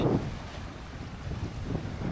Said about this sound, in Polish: Zobaczcie, jakie ogromne fale, musimy stąd uciekać.